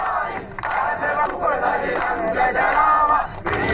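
Protesters from Hindu organisations surround a collectorate, a dense crowd shouting slogans in loud, continuous, overlapping chants with rhythmic surges, close and unbroken throughout.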